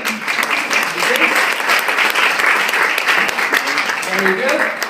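Audience applause for a magician's assistant at a live Las Vegas magic show, a steady wash of clapping lasting throughout, loud and close, with voices and cheers mixed in.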